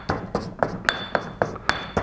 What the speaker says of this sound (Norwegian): Så knuser jeg dette sammen